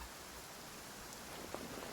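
Rain falling in the Genshin Impact video game, a steady soft hiss of drops on surfaces with a faint brief tap near the end, and no voices.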